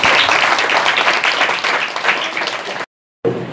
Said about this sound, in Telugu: నమ్మితే గట్టిగా చప్పట్లు కొట్టి